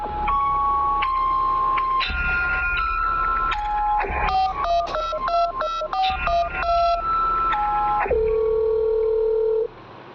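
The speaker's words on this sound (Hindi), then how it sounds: "ये सोचकर गुल्ली वहाँ से वापस आता है और पार्सल पर दिए गए नंबर पर कॉल करने लगता है।" A phone number is dialed: a sequence of clear touch-tone beeps, some long and some quick in rapid succession, ending with a sustained tone.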